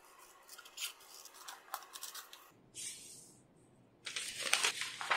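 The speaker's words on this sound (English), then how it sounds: "I have to cut at this edge and then join part 3." Scissors cutting along the edge of a paper piecing pattern: a series of crisp, close snips and paper rustles, a short pause with a brief soft sound, then a denser burst of cutting at the end.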